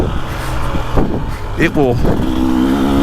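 A 2025 KTM 300XCW Champion Edition dirt bike with a 6-speed gearbox accelerates, its engine droning steadily with rising pitch sweeps as it climbs through the gears, under a rider's talking.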